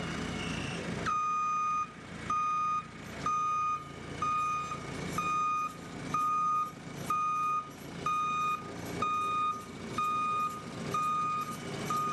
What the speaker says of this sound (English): The houlo pack is picked up using a forklift truck with a special attachment on the front and carried down to the clamp structure.